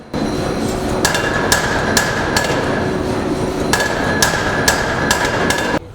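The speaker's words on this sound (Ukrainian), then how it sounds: "Тут завжди гучно і і робота кипить. Як працює молот" Heavy forging hammer blows ring out repeatedly in an irregular rhythm in a blacksmith shop in Odesa, each a sharp metallic strike over a constant loud workshop roar.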